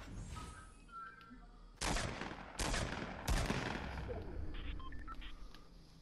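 Gunfire in Fortnite, several loud sharp shots at intervals over a quieter game background, fairly close, with faint talk.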